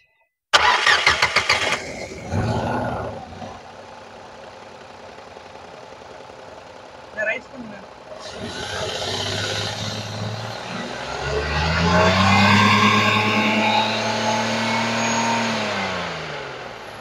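A car engine cranks with a rapid chugging burst, catches, and settles into a steady idle before revving up and easing back down, close by.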